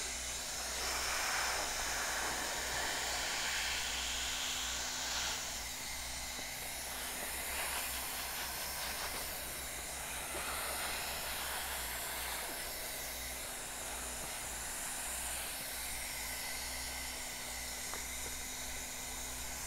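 Hot air welder blowing a steady hiss while a pipe boot is sealed to a pond liner, continuous and fairly quiet over a low droning hum.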